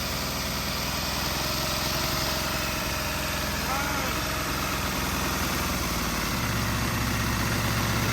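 A 2001 Aprilia RST 1000 Futura motorcycle engine idles steadily throughout, a close, loud, continuous low rumble with people talking over it.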